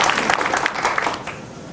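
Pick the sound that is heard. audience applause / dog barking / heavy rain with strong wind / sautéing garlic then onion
audience applause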